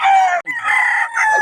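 A roundhead stag gamefowl rooster crows loudly and close by, one long drawn-out call that breaks briefly and then carries on, with no talk over it.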